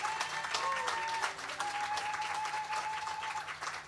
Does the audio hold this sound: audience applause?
yes